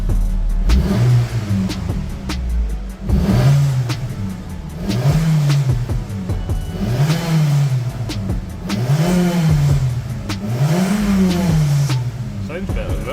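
Petrol Mitsubishi Outlander engine idling and revving in repeated swells, with a loud, close rumble and a rising and falling pitch that returns to idle between blips.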